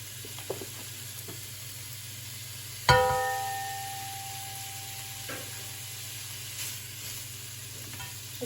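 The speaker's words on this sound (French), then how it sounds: "je vais commencer par les lardons" Bacon lardons dropped into a hot pot for tartiflette give a sudden loud sizzle that flares, then settles into a steady frying hiss over a low, constant cooker hum.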